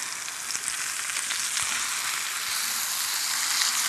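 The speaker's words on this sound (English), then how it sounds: "I'm just gonna flip our burgers." Greek-style burgers sizzle loudly in a hot pan as they are flipped, a steady bright crackle of frying fat with a few soft clunks of the turner, no voices.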